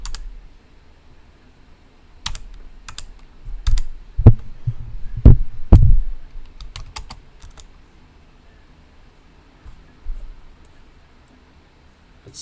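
Keys on a computer keyboard are struck in sparse, separate clicks and a few heavier thumps as a command is typed, close and fairly loud with quiet gaps between presses and no talking.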